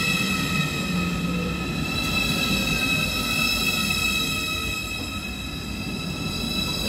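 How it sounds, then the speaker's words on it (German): A long ICE high-speed train rolls past a station platform in a steady, loud rumbling roar with a continuous high whine, holding near-constant intensity for several seconds. "Ein ziemlich langer Zug."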